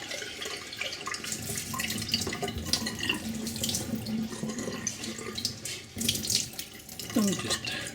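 Water pours and splashes steadily as sprouts are rinsed in a jar, a close continuous gurgling rush with a few sloshes and trickles toward the end.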